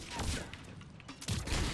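The Hurricane submachine gun in Mass Effect 3 fires in two short, rapid bursts separated by a brief lull, fairly faint and muffled within the game's background sound.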